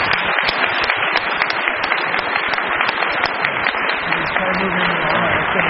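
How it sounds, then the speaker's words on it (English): An audience applauds a speaker at a vegetarian society talk on environmentalism and eating meat, the clapping loud and dense throughout, with voices mixed into the crowd noise. "Let's thank our speaker one more time with a nice round of applause."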